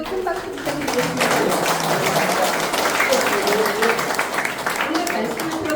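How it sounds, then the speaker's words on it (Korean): An audience applauds at the close of a history lecture by a former Seoul National University professor, a steady, loud wash of clapping from a crowded hall lasting throughout. "오늘 정말 특별한 강의해주신 우리 허성도 교수님께 다시 한번 큰 박수 부탁드리겠습니다."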